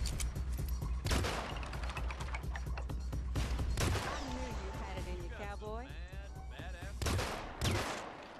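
Shooting-contest gunfire in Hitman Absolution, a video game: a few sharp shots ring out near the start and later, mixed with game music and sound effects, while someone talks over most of it.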